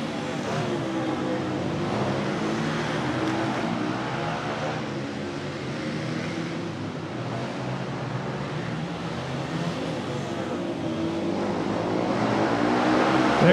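A Suzuki motorcycle races on a flat track in Fargo, its engine a steady droning roar that swells louder toward the end, heard from a distance with crowd ambience.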